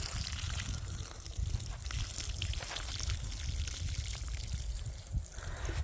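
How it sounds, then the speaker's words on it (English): Water poured from a watering can or hose onto a potted pepper plant in a garden, a steady close splashing trickle lasting throughout with no talk. "let's go ahead and give this guy a good deep water."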